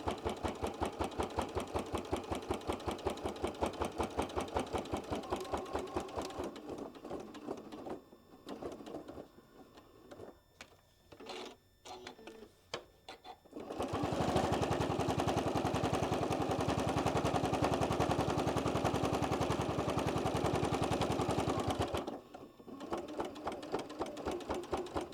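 A sewing machine stitches over thick straps on a scissor pouch, a rapid steady needle chatter up close that pauses and picks up again, then gives way to a smooth, louder whir before the stitching returns.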